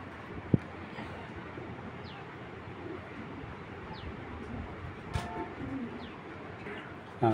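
Racing pigeons cooing, several soft low coos and a few higher chirps over a constant murmuring background, with an occasional louder knock nearby.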